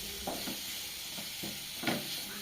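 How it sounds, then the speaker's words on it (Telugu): Spiced prawns roast in butter in a pan on low flame for a Telugu prawn curry, giving a quiet, continuous sizzle broken by a few soft stirring scrapes. "ఇప్పుడు బటర్లో రొయ్యలని మంచిగా రోస్ట్ చేసుకుందాము."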